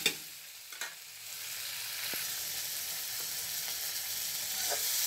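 Prawns rubbed with turmeric and salt fry lightly in a pan, giving a steady hiss and sizzle with a few sharp clinks of a utensil, close by and gradually growing a little louder.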